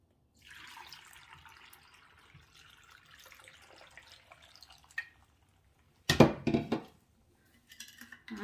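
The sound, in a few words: pouring water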